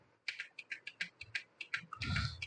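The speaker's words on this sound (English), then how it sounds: "So here I've just maximized it and I'm using my keyboard" Typing on a computer keyboard: a dozen or so distinct close key clicks in an uneven rhythm, ending with a longer, louder clatter, quiet and alone.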